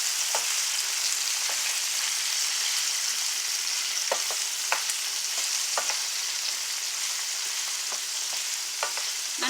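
Onions fry and caramelize in a pan over low heat, giving a continuous even sizzle with scattered small pops and crackles, close and steady, with no voices.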